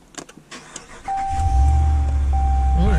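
A 2019 Ram Rebel pickup truck engine cranks and catches after a few faint clicks, then settles into a steady deep rumble as a thin warning chime sounds over it.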